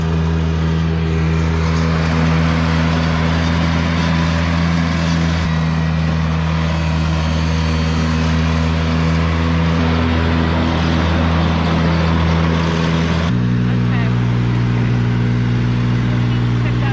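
A Ventrac compact tractor engine runs continuously nearby, a loud, steady low drone with a shift in pitch near the end, while someone talks over it.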